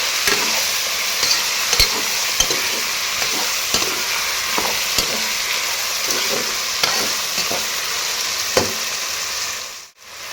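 Turmeric and salt are stirred into vegetable pulao in a hot pan: a steady sizzle of frying runs throughout while a spoon scrapes and knocks against the pan in regular strokes, close and loud, with no talking.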